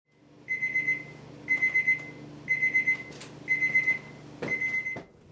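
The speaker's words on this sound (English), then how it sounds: "Our chef alarm is sounding." A ChefAlarm cooking thermometer beeps while turkey cooks, five evenly spaced bursts of rapid, shrill electronic pulses, close and clear against a quiet kitchen.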